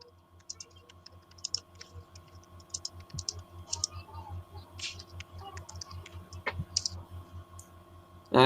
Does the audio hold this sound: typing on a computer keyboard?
yes